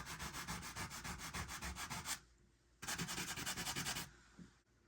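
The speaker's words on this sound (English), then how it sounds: "So I should be able to just sand most of that off." Sandpaper rubbing putty off a gapped wooden baseboard in quick, even back-and-forth strokes, loud and close, in two bursts of steady scratching separated by a brief pause, with no voices.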